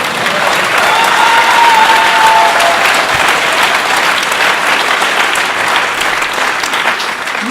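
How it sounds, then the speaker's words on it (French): Warm, full applause fills a theatre after extracts from A Midsummer Night's Dream, loud and sustained from a large audience, with a brief thin whistle-like tone early on. "Applaudissements chaleureux."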